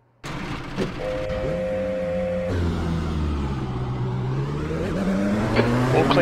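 Dallara P217 prototype race car in the iRacing simulator, a steady engine drone with gear-change shifts and rising revs, tyre noise underneath and faint voice chatter.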